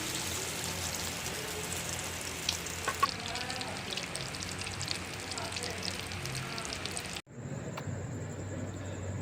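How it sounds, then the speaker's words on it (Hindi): Breadcrumb-coated chicken and vegetable cutlets fry in hot oil with a steady, close sizzle that cuts off abruptly near the end, leaving a quieter hum. "ब्रेड क्रम्ब में ऐसे कोट करते जाएंगे और इनको फ्राई कर लेंगे।"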